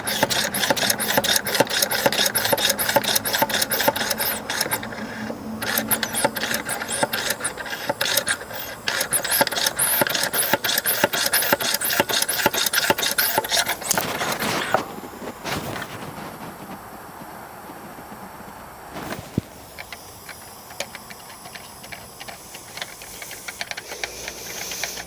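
A hand pump forces air into a pressure brake bleeder connected to an Audi TT's brake fluid reservoir, producing long, rhythmic rasping strokes and hissing up close, then a quieter stretch with intermittent hiss.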